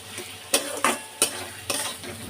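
Spiced mung dal cooked with fish head is sautéed in a pan, a soft sizzling bed broken by four or five sharp, regular scraping strokes of a spatula, close and clear.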